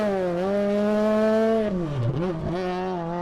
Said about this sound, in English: what a great opportunity this is for Dave to drive this car on the WRC roads that it was designed for.